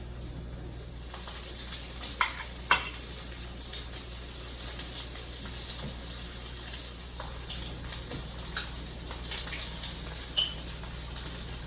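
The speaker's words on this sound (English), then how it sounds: "And then we're going to be going into a hot cast iron skillet." Halibut fillet frying in avocado oil in a hot cast iron skillet, giving a steady, even sizzle throughout with a few brief clicks and pops rising above it.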